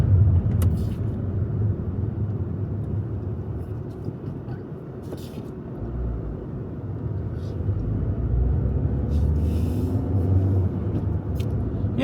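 Interior drone of an Alfa Romeo Giulietta on a smooth road, a low steady engine and road rumble with faint wind, while people talk over it throughout.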